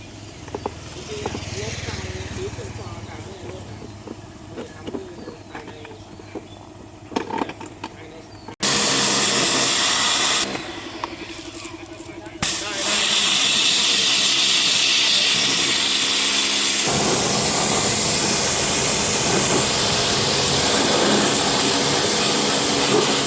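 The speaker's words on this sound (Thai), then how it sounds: "เราก็จะฉีดโฟมฆ่าเชื้อภายในตู้แอร์ให้นะคะ" Disinfectant foam sprays into the air-conditioner unit of an Isuzu D-Max pickup, a loud broad hissing that starts and stops in long bursts, with someone talking and workshop noise in the gaps.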